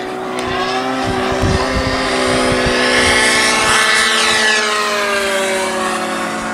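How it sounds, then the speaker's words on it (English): Great Planes Reactor RC biplane makes a high-speed pass, its engine whining loudly with a rising then falling pitch as it sweeps close by. "now I'll try a high-speed pass down here"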